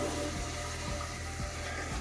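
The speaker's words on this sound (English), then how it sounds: "Now you can see the water going back in the tank." A steady, broadband rush of water refilling a toilet tank, continuous and fairly close, with no voices.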